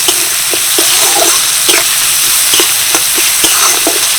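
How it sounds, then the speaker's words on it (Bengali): Chopped onion and green chilli fry loudly in a pan, a dense constant sizzle with regular soft tapping and scraping of a stirring spoon every half second or so. "পেঁয়াজ আর কাঁচা লঙ্কাটা দিয়ে আমি এক মিনিট মতো নাড়াচাড়া করেছি"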